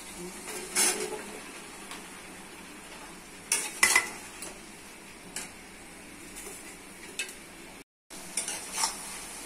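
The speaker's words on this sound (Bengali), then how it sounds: "এভাবে কষে কষে রান্না করতে হবে।" Pointed gourd, potato and eggplant being stir-fried with spices in a pan, a soft steady sizzle with scattered clinks and scrapes of a utensil against the pan, close by.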